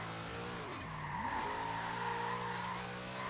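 Tires squeal steadily as a car drifts in third gear in Forza Horizon 4, the skid sustained with an engine whine dipping and rising beneath it, close and continuous for the whole stretch.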